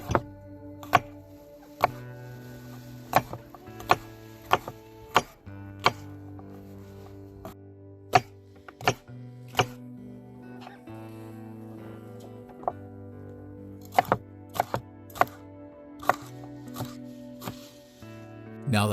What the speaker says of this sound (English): Then I'll give it a good julienne cut, which will then turn into a nice thick chop.